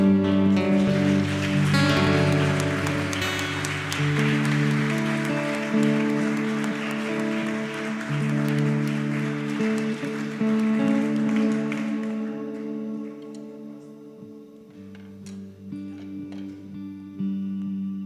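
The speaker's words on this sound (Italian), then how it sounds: "Puoi applaudire il nome del Signore." A church congregation in Verona claps through a worship service while loud sustained music plays. The music fades near the end, leaving a few scattered sounds.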